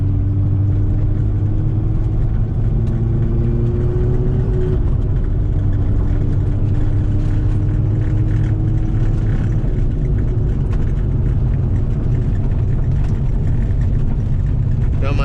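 A Hyundai car engine with a new muffler drones steadily from inside the vehicle while driving, a low constant hum with a faint rising whine.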